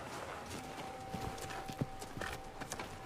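Horse hooves clip-clop faintly in an uneven walking rhythm, a few sharper knocks standing out over a low steady background hum.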